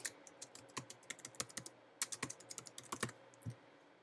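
Rapid, uneven clatter of keys on a computer keyboard, many crisp close taps in quick bursts with short pauses, no voices.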